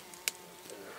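Bees buzzing among the last flowers of an early linden tree, a faint steady drone with a brief sharp tick near the start.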